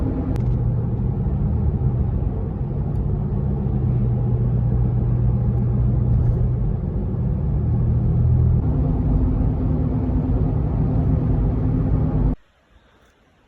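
A Toyota FJ Cruiser drives along a trail with a steady, loud, low engine rumble from inside the cabin, shifting slightly in pitch partway through before cutting off abruptly near the end.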